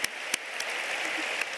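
An audience applauds after a book presentation, steady dense clapping with a few sharper claps standing out, moderately distant and fairly quiet.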